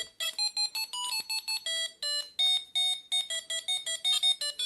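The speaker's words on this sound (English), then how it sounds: "it's now in the alarm state" An electronic alarm beeps in rapid bursts of shrill, repeating tones, loud and close, with no pauses or voices.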